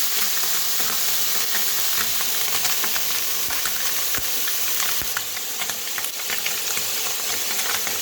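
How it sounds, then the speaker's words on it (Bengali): Potatoes and onions fry in a pan for a kachki fish chorchori, giving a steady, loud, close sizzle throughout with occasional sharp crackles and pops. "হালকা করে আলুটা ভাজা হয়ে যাবে"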